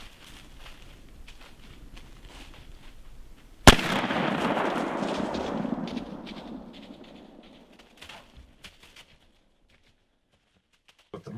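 A single sharp, loud black powder muzzleloader rifle shot cracks out outdoors during a late-season Michigan deer hunt, its rumbling report rolling away over several seconds into quiet, with faint rustling before and after.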